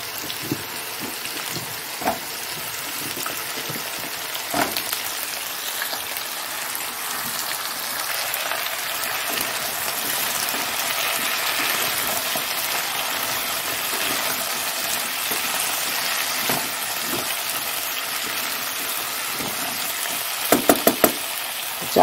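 Potatoes crackle and sizzle steadily in a hot pan, a dense continuous frying hiss punctuated by occasional pops, with a few quick metallic clinks near the end.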